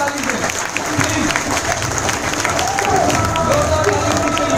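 Audience applause fills an event hall as a host introduces a guest speaker, a steady wash of clapping with some crowd noise, while a voice talks over it throughout.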